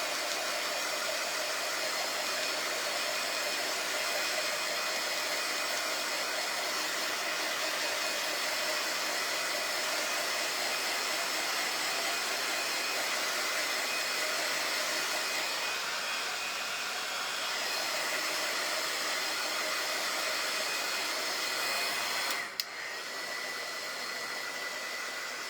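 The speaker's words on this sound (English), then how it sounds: "I'm trying to be careful with this heat tool because it'll melt this plastic." A heat tool blows a steady, loud rush of hot air over plastic during a fall home decor craft project, running continuously for the whole stretch with only a brief bump near the end.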